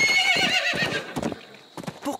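A pony named Sabot de Feu whinnies in a long, wavering neigh, followed by sharp hoof clip-clops in short bursts, close and fairly loud, in a cartoon setting.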